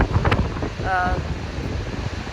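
Steady wind buffets the microphone in a constant roar on a cruise ship at sea off Alaska, with faint speech and a brief tonal squeak partly buried beneath it.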